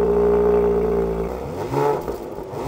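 A Porsche Macan Turbo engine running with a loud steady low drone that cuts off abruptly partway, followed by clattering mechanical noise and a brief rev, with no talk.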